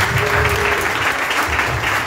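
A congregation at a church inauguration service claps for Jesus, producing loud, dense and sustained applause from many hands close by, steady throughout with no pause.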